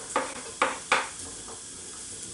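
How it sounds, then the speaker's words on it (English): Chorizo, spring onions and chili flakes landing in an oiled frying pan, giving three short bursts of sizzle and clatter followed by a quieter, steady frying hiss. "So this may make a big sizzle."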